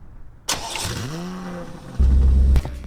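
A car engine in the Roblox game Southwest Florida starts with a quick cranking whine, then catches into a short rising rev and a steady loud idle, with no voices.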